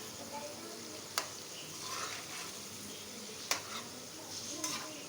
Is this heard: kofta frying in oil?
yes